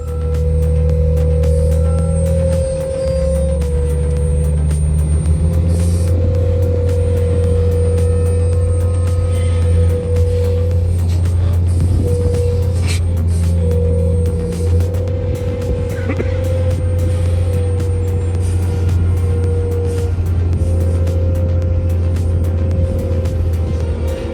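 Heavily loaded logging truck descending a steep, treacherous road in its lowest gear, a loud, steady low engine drone held continuously with little change in pitch.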